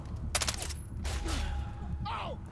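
Bursts of gunfire from a gun in Far Cry 3, several quick volleys in close succession at moderate loudness, with a voice briefly heard.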